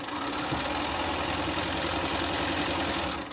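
A sewing machine stitching scrappy quilt squares runs in a steady, continuous mechanical whir. The motor hum stays close and even throughout, with no voices.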